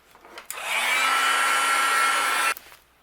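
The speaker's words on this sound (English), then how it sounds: "I'm going to use my heat gun, and I'll melt this" A heat gun runs for about two seconds while melting embossing on a cardmaking panel. It gives a steady, close, loud blowing whoosh that starts and cuts off abruptly, with no talk.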